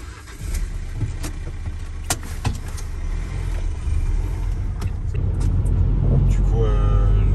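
A vehicle drives along a road on a long trip, its steady low engine and road rumble filling the cabin from start to finish, with people talking over it.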